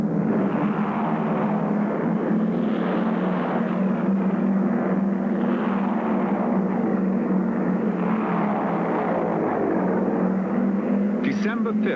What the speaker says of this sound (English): A flight of Navy Avenger aircraft finishing off a routine training mission off the coast of Florida.